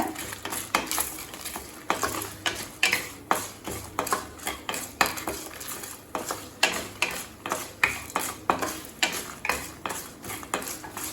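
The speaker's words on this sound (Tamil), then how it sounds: "ஸ்லோடே வச்சு மிளகாய் கலர் மாறாத மாதிரி வதக்கிக்கோங்க." A metal spoon stirs and scrapes dried red chillies sautéing in a pan for ginger chutney, a steady rhythmic clatter of repeated scraping strokes against the pan, close and moderately loud with no voices.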